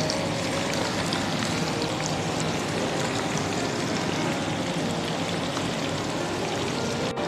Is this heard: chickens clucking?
no